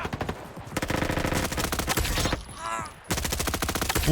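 Rapid automatic gunfire in the Roblox game Frontlines comes in dense rattling bursts, broken by a short pause with a descending whoosh before the shooting resumes.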